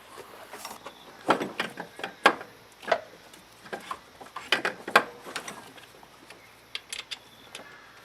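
A wrench works bolts while an AC compressor is reinstalled on a VE Commodore engine, giving scattered clicks, knocks and short ratcheting bursts up close at an uneven rhythm, with no talk.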